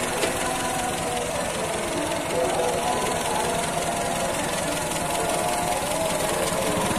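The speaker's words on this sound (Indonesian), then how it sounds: "Untuk mesinnya halus ya, suara glepung, tidak bersuara berisik ya" A 1990 Toyota Kijang pickup engine idles smoothly and steadily, a close, continuous low rumble with a fine regular pulse holding even throughout.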